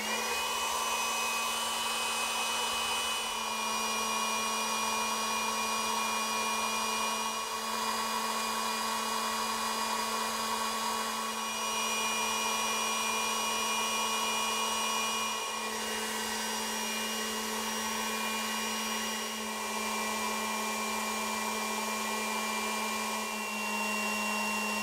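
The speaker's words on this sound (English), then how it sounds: "let's let the blower suck it dry" A Milwaukee M12 spot blower runs continuously on an older CP 2.0 battery, giving a steady, loud, high whine with an unchanging tone for the whole stretch, with no talking.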